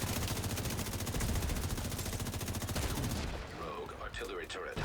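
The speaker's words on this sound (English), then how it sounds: "Ooh, mortars." Rapid, dense gunfire and artillery-style blasts in the shooter game The Division 2 keep a loud, continuous rattle for about three seconds, then drop into quieter scattered impacts and game effects.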